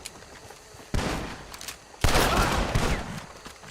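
Bursts of rapid gunfire from a Red Dead Redemption 2 story-mode shootout, two dense volleys roughly a second apart, the second louder and longer, with crackling reports trailing off.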